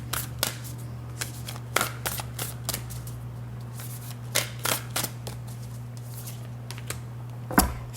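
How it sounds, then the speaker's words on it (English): Large oversized Black Moon Astrology tarot cards being shuffled by hand, with a series of soft papery riffles and slaps at an uneven rhythm, close and fairly quiet over a steady low hum, one louder slap near the end. "Let's get a card from the Black Moon Astrology deck for you."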